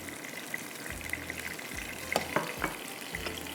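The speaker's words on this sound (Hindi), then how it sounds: "तेज़ आग पर हम झींगों को भूनेंगे" Prawns fry over high heat in a pan with tomatoes and spices, giving a steady sizzle broken by a few louder crackles and stirring clatters, with no talking.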